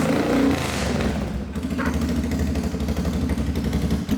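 An abandoned ATV brought back to life runs with a steady, throaty engine chugging close by, its pitch shifting slightly as the throttle eases, with no voices over it.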